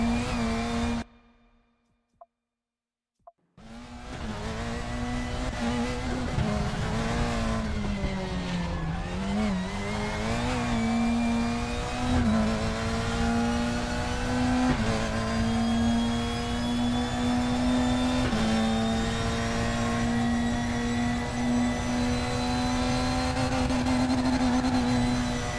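A GT3 race car in a racing game, Spa circuit, accelerating hard out of a corner: the engine note drops out briefly, then roars back and climbs steadily through the revs, loud and close, with no talk.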